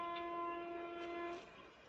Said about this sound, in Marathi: हॉर्न तर ऐकू येतोय रेल्वेचा